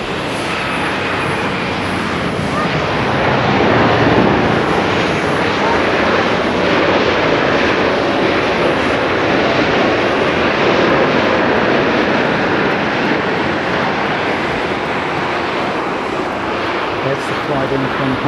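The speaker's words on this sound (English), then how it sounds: "That's the flight in from Honolulu." An airliner arriving at Haneda on a flight from Honolulu, its engine roar loud, broad and steady for the whole stretch, with voices talking over it.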